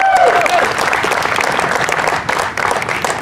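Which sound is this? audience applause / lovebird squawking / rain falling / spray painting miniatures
audience applause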